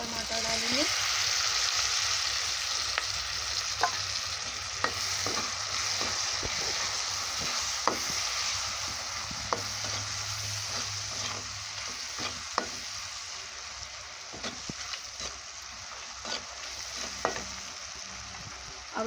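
Tomato frying in oil for a potato curry gravy, a continuous loud sizzle broken by repeated clicks and scrapes of a spoon stirring the pan, with no voices.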